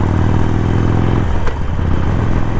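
A Harley-Davidson Sportster 1200 motorcycle being ridden, its engine a steady low loping rumble that shifts slightly midway with a brief clatter, loud and close throughout.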